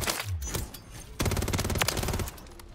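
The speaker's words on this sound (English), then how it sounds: "We're shooting though." Rapid automatic fire from a WSP Swarm in the shooter game Modern Warfare 3 comes in close, loud bursts, with a dense stretch of rattling shots in the second half.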